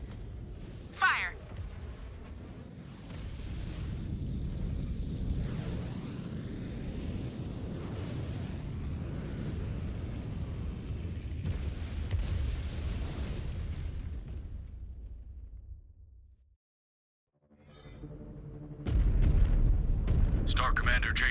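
Weapons fire and explosions roar in MechWarrior 5: Clans as the Gazelle is shot down: a long, dense barrage of booming blasts and rumbling fire, then a brief near-silence before another loud burst. Radio voices speak over parts of it.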